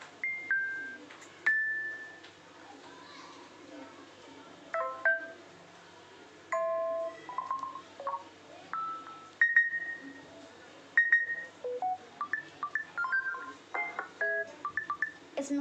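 A series of short notification tones previewed one after another on a Samsung Galaxy S20 phone, with brief chimes and beeps separated by pauses, clear and close with no talking.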